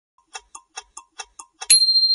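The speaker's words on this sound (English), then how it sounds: "So here's the ting sound." Ting sound effect for an Italian brainrot quiz: seven quick, crisp ticking clicks in a steady rhythm, followed by one bright, sustained metallic ting that rings on clearly, with no talking.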